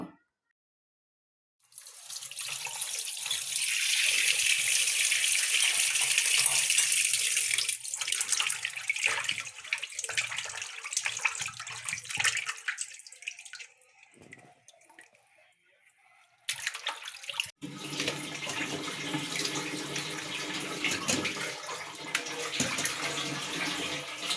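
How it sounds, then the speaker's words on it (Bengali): Tap water gushing loudly into a sink while freshly cut koi fish are washed, with splashing and handling noises, a brief pause, then the flow resumes steadily, no talking. "কই মাছগুলো এখন ধুয়ে নিচ্ছি।"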